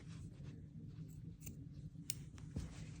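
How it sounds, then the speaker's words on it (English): Small scissors snipping off yarn tails on a mini crocheted Santa hat, a few faint, close, dry clicks and snips scattered over a soft background hum. "Then I'm just gonna cut them. Cut the tails off anyway."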